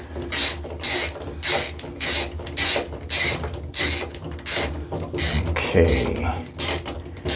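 Rhythmic ratcheting bursts repeat close and steady as a stripped shower valve is wound onto its threads, about a dozen strokes in a row, and a voice speaks briefly once.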